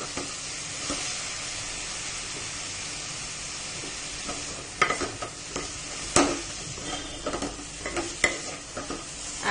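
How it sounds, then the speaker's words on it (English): Cauliflower pieces are stirred into sautéed onions in a pan for Maharashtrian-style sabji. A steady sizzle of frying runs throughout, with scraping stirs and clatters growing busier toward the end. "so I will add this cauliflower pieces"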